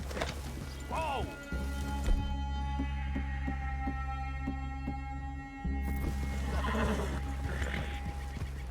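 Horse whinnying in the Western video game Red Dead Redemption 2, a loud close neigh near the start, then a steady engine-like drone and low rumble, with voices speaking over parts of it.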